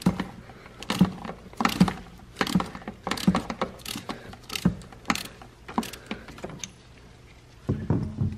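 A 3/8-drive ratchet with a swivel and 19 mm deep socket loosening an oil pressure sensor on a C4 Corvette, giving a series of close, sharp clicking bursts in irregular rhythm with short pauses.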